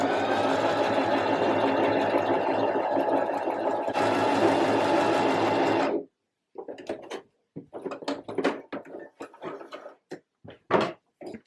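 A sewing machine runs a straight stitch along a puff sleeve curve, a steady close mechanical whir for about six seconds with a slight change midway, then stops, followed by short handling clicks and rustles.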